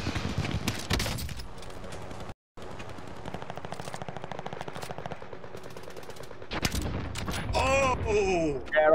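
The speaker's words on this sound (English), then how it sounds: "Yeah, Kodiak, look, fireworks" Rapid, dense bursts of video game fireworks crackling and popping fill the scene, with a brief silent gap, then rising whistles and bangs near the end.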